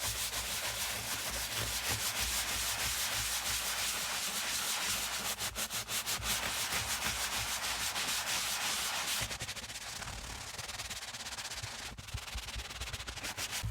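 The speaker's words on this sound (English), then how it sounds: "so let's get to scrubbing" A brush scrubs the insole of a Prada pebbled leather loafer, giving a continuous rough rubbing sound that keeps a steady back-and-forth texture for the whole stretch, close and fairly quiet, with no voices.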